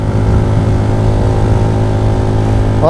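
A Rouser NS125 motorcycle engine held at full throttle climbing uphill, a loud, continuous, steady drone with strong even harmonics and no break or talking throughout.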